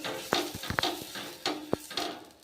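An oiled onion rubbed across a hot dosa pan, giving soft sizzling swipes and light scraping knocks in an uneven rhythm, close and fairly quiet.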